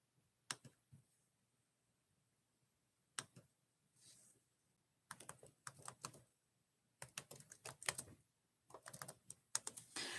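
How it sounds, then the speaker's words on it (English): Bursts of computer keyboard typing, quiet and close, in several short runs separated by pauses. "I should probably type that up."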